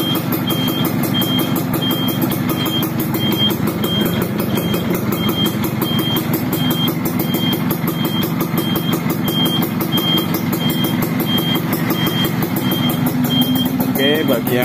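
A used motorcycle engine idles steadily and loudly for the whole stretch, a constant rumbling drone with a repeating high beep running through it and a voice talking over it.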